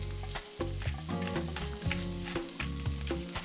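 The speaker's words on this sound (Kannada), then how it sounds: "ಆಮೇಲೆ ಎಣ್ಣೆ ಬಿಸಿ ಆದಮೇಲೆ ಈರುಳ್ಳಿ ಮತ್ತು ಬೆಳ್ಳುಳ್ಳಿ ಹಾಕ್ಕೊಂಡು ಚೆನ್ನಾಗಿ ಬಾಡಿಸ್ಕೊಬೇಕು" Onion and garlic fry in hot oil for a tomato soup, giving a steady close sizzle with a few scraping stir strokes and no talk.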